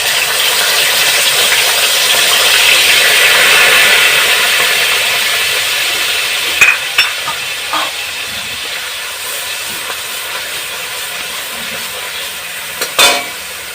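Ginger, cumin and green chili masala sizzles in a pan with jiol fish for a curry. A loud, steady frying hiss fills the clip, followed by a few sharp clinks of utensils near the end.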